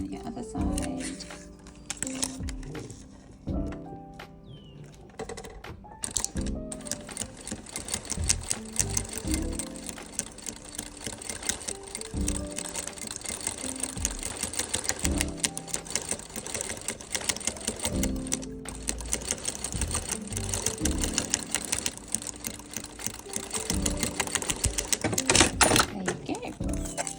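A sewing machine runs in a rapid, mechanical clatter while stitching loops onto a corset, with the busy noise continuing nearly throughout and speech heard alongside it.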